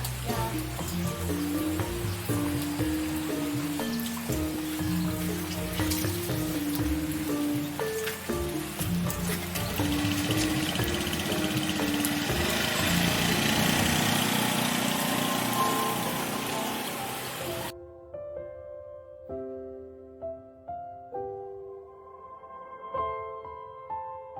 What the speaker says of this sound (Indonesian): Lagi hujan loh.